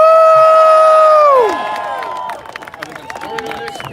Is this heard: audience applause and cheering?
yes